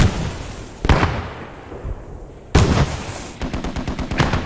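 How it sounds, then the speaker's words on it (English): Artillery fire in the wartime shooter game Post Scriptum: two heavy booming blasts about two seconds apart, then a rapid run of sharp gunshot cracks, with no talk. "Arty firing."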